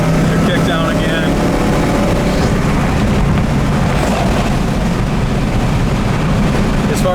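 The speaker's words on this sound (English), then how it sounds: "Your kick down again." A 1967 Ford Mustang engine roars steadily during kick-down acceleration, a loud broadband drone that swells and holds under wind and road noise throughout.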